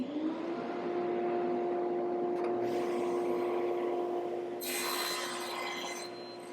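Wooden drawer boards being squared at one end and cut to width, heard as a sustained mechanical hum with a steady tone and bursts of cutting noise, fairly loud and close, with no talking.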